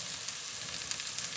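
Onion frying in butter in a pan, a soft, even, steady sizzle with faint crackles, heard alone.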